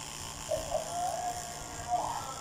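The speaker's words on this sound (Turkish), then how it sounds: "Bu tıraş yapılacak ama çok uzun sürmesi istemiyorum." Electric clippers shave a dog, giving a steady, faint buzz that runs through the whole moment, with soft voices nearby.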